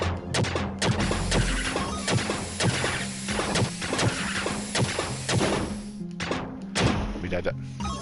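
Crashing and smashing blows with heavy thuds as a nest is destroyed in the Stranger Things 3 video game on PlayStation 4 Pro, dense and loud over a pulsing game soundtrack.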